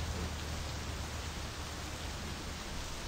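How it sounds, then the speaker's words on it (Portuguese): Rain falling in the driving video game My Summer Car, a steady, quiet hiss of rainfall with a low rumble beneath, continuous and even with no talking. "vou ter que sair na chuva"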